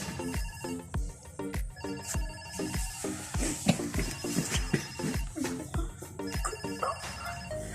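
An apartment building intercom rings with a repeating electronic melody of evenly spaced tones, steady and fairly close.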